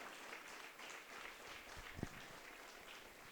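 Church congregation at a Christmas service applauding, a faint, distant patter of clapping with one sharper knock partway through.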